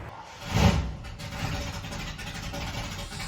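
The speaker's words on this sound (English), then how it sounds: "Sound like a monster truck out there with a big old cam." A 1982 Ford Bronco with a big cam runs with a deep, lumpy rumble, surging briefly as if revved and then settling into a steady, rough idle nearby.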